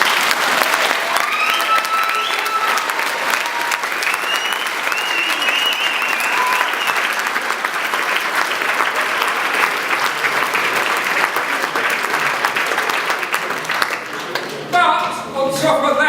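A large audience at an annual presentation evening for 56 Squadron at Woolwich Barracks claps loudly and steadily in dense sustained applause, with a voice breaking through over the clapping near the end.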